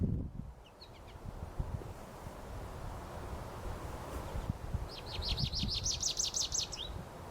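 A recorded bird call plays over soft rustling and wind noise, a rapid series of bright, evenly spaced chirps arriving in a burst toward the end, fairly close and clear.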